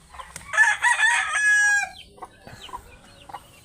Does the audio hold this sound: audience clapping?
no